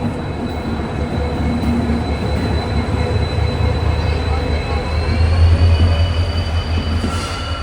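A Vande Bharat express train running, heard up close as a steady, loud rolling rumble with a faint high squeal of wheels, and some voices faintly under the noise.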